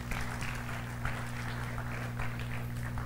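Steady applause from a crowd fills the clip, a dense continuous patter of clapping at moderate loudness with a low hum beneath.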